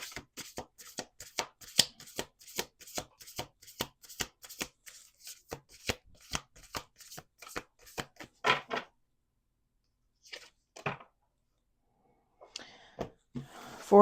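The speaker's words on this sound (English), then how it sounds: "Last shuffle." A deck of cards is shuffled by hand in quick repeated riffles, each one a crisp, close burst of fluttering card snaps, followed by a pause and a few softer shuffles at the end.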